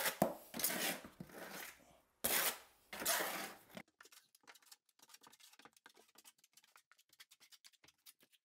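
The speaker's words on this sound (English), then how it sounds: "we can just apply thin set with this, kind of the same as the Curdy membrane, just with a 1/8 by 1/8 inch square notch trowel" A 1/8 by 1/8 inch square-notch trowel spreads modified thin-set mortar for a tiled shower over concrete, giving several loud, wet scraping sweeps close up, followed by a run of quiet, scattered taps and clicks.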